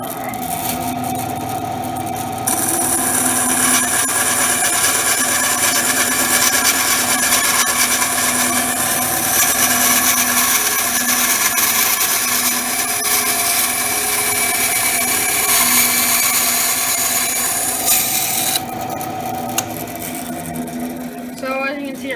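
A Masterforce 10-inch band saw runs steadily with a bright, sustained whine as it cuts wood, starting up after a short pause and winding down near the end, close and loud, with no talking.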